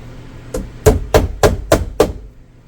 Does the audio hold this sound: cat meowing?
no